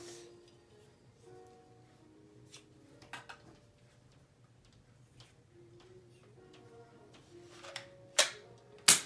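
A Black Series spin target toy blaster is handled with faint clicks and ticks, then fires two sharp, loud snaps near the end, close to the listener.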